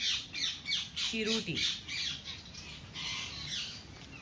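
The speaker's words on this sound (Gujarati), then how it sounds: "પોપટ કેટલા બોલે છે." Parrots give loud, harsh squawks in quick bursts at close range, a few sharp calls crowding the opening seconds and then fading into softer chatter, while a person briefly speaks over them.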